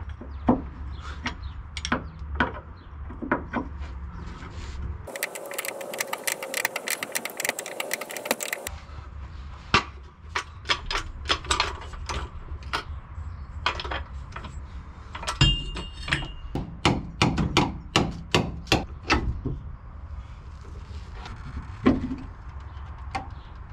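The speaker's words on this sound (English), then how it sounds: "Now I'll try to unbolt the gearbox mount" Metal clanks, ratchet clicks and tool knocks come from unbolting the gearbox mount on a Ford Transit MK1 van during engine removal, with a steady whirring burst in the middle and sharp irregular taps close by.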